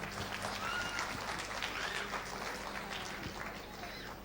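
Audience clapping at an Ambedkar-themed gathering welcomes former pastor Vijay Kumar to speak: a dense, continuous patter of many hands that slowly fades, with some crowd murmur.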